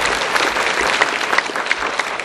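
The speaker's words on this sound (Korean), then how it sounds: "주님께 감사의 박수 한번 다시 한번 돌려드릴까요?" Hearty applause from a church congregation during a Sunday service, continuous clapping filling the space for a couple of seconds.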